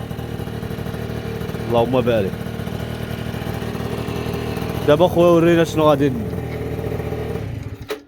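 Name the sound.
Yamaha Aerox scooter engine running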